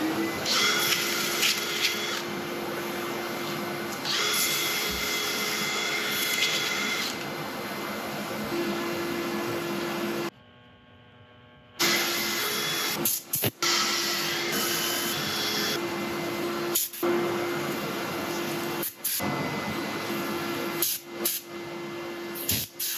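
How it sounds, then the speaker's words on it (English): Steady power sanding of a jarrah burl and resin bowl on a woodturning lathe in a workshop, a continuous whirring drone with a constant tone, broken by a short pause and a few brief dropouts. "I'm going to set up for sanding. I'll let you watch a bit of it."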